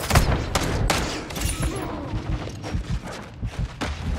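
Call of Duty Modern Warfare 2 gunshots, several sharp close reports in quick succession over a busy, thumping background of firefight noise.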